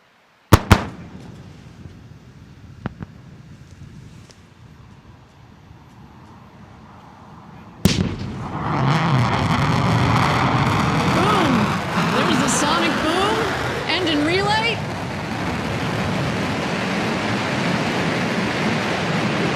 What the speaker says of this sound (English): then we will look for the firing of the BE-3 rocket, the BE-3 engine, that will slow it to just 4 or 5 miles an hour